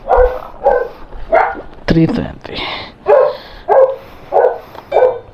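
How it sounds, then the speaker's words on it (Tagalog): A dog barks in a rhythmic series of about eight loud, close barks, each spaced roughly half a second apart, near a house with chickens on a delivery rider's route in the Philippines, while a person talks over the barking. "may aso."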